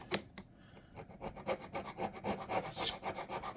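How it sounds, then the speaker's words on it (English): A tool scrapes in short, repeated rasping strokes across the gasket surface of a McCulloch D30 chainsaw carburetor, close up and fairly quiet, with no voices. "Scrape off any crap that you can carefully"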